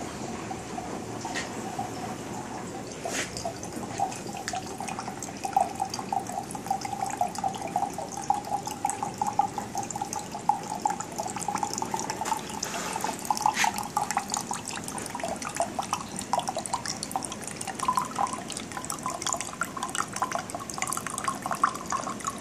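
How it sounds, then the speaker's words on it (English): Cold water splashes and drips over a copper still with a large condenser, a steady wet trickle and patter running throughout with occasional louder drops, no talking. "Dump a bunch of cold water on it real quick."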